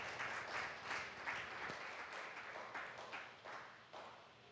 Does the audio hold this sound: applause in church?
yes